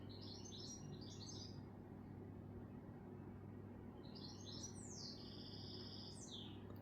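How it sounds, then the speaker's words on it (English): A small bird sings in short, bright chirping phrases, pausing between bursts, heard at a distance over a quiet, steady background hum. "Can you hear that bird?"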